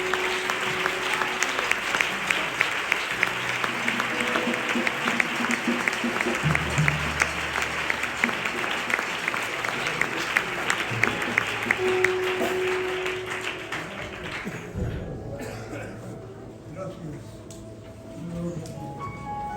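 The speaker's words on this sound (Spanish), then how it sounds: "Dale fuertes aplausos para el Señor." A church congregation applauds loudly for the Lord, a dense roar of many clapping hands that holds strong and then thins and fades toward the end.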